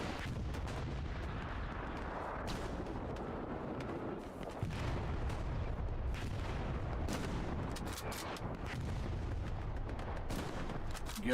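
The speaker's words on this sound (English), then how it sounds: "We got Solar lobbing rockets." Rockets fire in the Hell Let Loose multiplayer war game, a dense run of booming launches and blasts overlapping with distant gunfire, loud and continuous with no speech.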